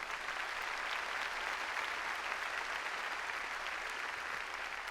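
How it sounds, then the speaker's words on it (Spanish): A church congregation applauds loudly during a Spanish-language sermon, a dense, steady wash of clapping that holds evenly for the whole stretch with no voices breaking through. "Denle un aplauso fuerte al Señor."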